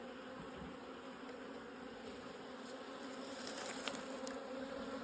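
Honey bees buzz steadily at an opened hive during an inspection, a dense, even hum from many insects close by, with a few individual bees passing nearer toward the end.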